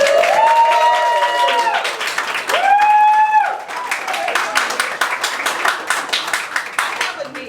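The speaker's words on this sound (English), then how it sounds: "I want everyone here to give a round of applause" An audience applauds at a community event during an inspirational speech by a judge. The dense, steady clapping fills the room and runs throughout, while a sustained high-pitched hum and swooping vocal tones ride over it.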